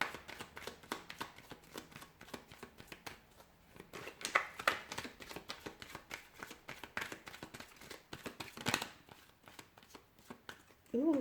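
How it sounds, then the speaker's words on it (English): Tarot cards shuffled by hand in a long run of quick, dense riffling flutters and soft slaps, close and fairly quiet, with a few louder snaps of the deck near the end. "So we'll go ahead, give the cards a shuffle"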